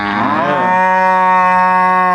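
A cow at a cattle and buffalo livestock market in Sangkha district, Thailand, gives one loud, drawn-out moo very close by. The call holds steady for about two seconds with no talking.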